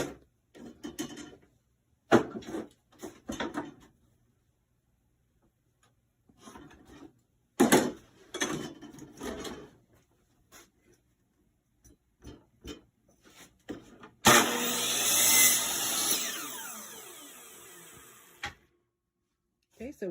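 A 1x4 wood board is cut in a workshop, a loud harsh burst of about four seconds among scattered knocks, clunks and handling of boards, with talk throughout.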